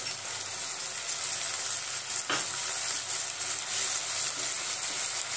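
Tomato dropped into chopped onions already frying with salt in a pan, a steady close sizzle with one brief soft splash-like burst partway through, no voices.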